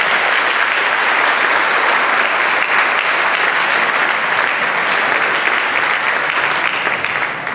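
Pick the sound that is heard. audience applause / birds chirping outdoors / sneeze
audience applause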